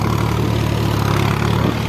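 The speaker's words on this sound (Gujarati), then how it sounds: "ટ્રેક્ટર પલટર મારવું પડે" A tractor engine drones steadily at night, a deep continuous rumble with a faint rhythmic throb, close and fairly loud, with no voices.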